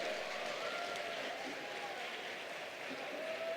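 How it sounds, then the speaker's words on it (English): Audience at a ranch grand opening event applauds steadily, a continuous wash of clapping heard from a distance, with some faint voices mixed in. "So please give me a round of applause for that."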